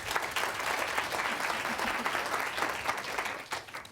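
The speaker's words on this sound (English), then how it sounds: "let's give a round of applause welcoming our panelists" A morning audience at an education reform panel gives a brief, steady round of applause to welcome the panelists, with even, moderately loud clapping throughout.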